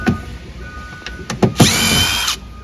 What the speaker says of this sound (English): I hold it with my shoulder and pop all these screws out